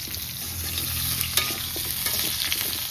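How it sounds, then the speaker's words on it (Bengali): Papaya pieces lightly frying in mustard oil in a kadai, a steady close sizzle with scraping and stirring clatter of a spoon against the pan. "হালকা একটু ভাজবো"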